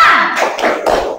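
Group of students clapping together for a 'tepuk semangat' ice-breaker in a classroom: a quick burst of a few loud, close, rhythmic claps over about a second.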